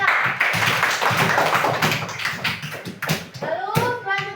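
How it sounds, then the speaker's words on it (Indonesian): Children in a classroom applaud in a burst of uneven, close hand claps, mixed with children's chatter and a few sharper taps, with the clapping fading out toward the end. "beri tepuk tangan kepada mereka"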